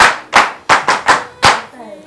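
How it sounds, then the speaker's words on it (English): A small group claps in six sharp, uneven bursts of close, loud claps, spaced slightly apart, followed by a brief quiet tail. "Honestly, clap for yourselves."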